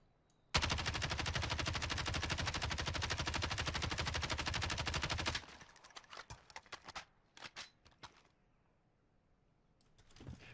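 A Kilo assault rifle in Warzone fires one long, loud, unbroken full-auto burst of about five seconds under recoil control, followed by a few scattered sharp clicks and pops.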